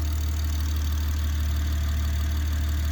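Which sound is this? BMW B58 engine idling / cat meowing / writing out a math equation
BMW B58 engine idling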